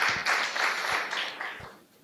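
An audience at a conference on financing Benin's energy sovereignty applauds: a short, fairly faint round of clapping with a few sharper claps, fading out after about two seconds.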